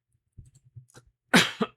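A sharp, loud cough bursts out after a stretch of quiet low murmuring, followed by a second smaller cough close to the mic.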